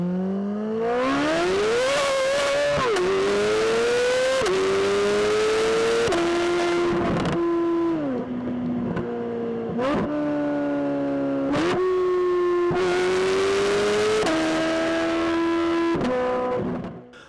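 A Chevrolet LT6 V8 in a Corvette C8 Z06 revs hard and loud, with a high, screaming wail that climbs, drops between shifts and climbs again over and over, with no talking.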